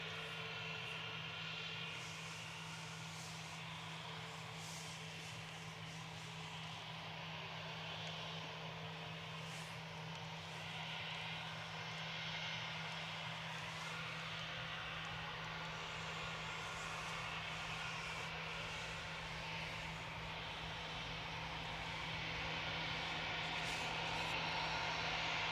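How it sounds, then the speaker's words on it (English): EasyJet airliner departing Manchester Airport for Alicante, a faint distant engine drone with a steady low hum, slowly growing louder toward the end. "EasyJet 2029 to Alicante departing there"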